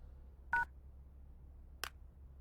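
Two short telephone dialing tones sound faintly in a quiet room, about a second apart, with a low steady hum beneath.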